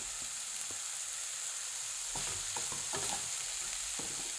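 Capsicum sautéing in a pan for an egg and capsicum dish: a steady sizzle and frying hiss, with a few scraping stirs of a spatula in the second half, close and without voices.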